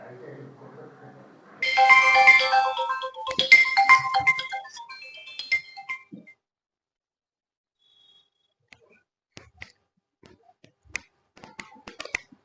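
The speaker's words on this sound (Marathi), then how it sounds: "फोन आला ऑफिस मधून साहेबांचा." A phone rings with a melodic electronic ringtone for a few seconds, fairly loud and close, then fades into near silence broken by faint scattered clicks and handling noises.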